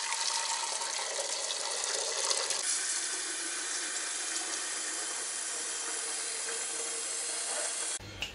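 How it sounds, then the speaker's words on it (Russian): Continuous rushing hiss of water heating toward a boil in kettles, steady and fairly close, ending with a short clunk. "Будем пока воду кипятить. Чайники потихоньку."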